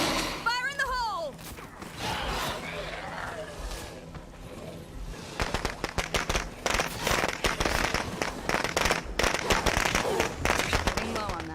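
An explosive goes off in the zombie survival video game State of Decay 2: a burst of crackling, popping blasts and debris, dense and loud, running several seconds over game background noise.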